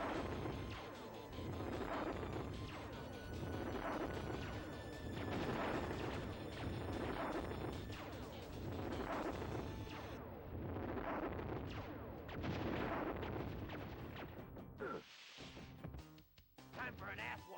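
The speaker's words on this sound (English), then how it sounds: "We're gonna blow this guy up with so many bombs." Bombs exploding in the Contra video game, a rapid series of booming blasts repeating roughly every second, dense and continuous, ending with a brief lull and a couple of final bursts.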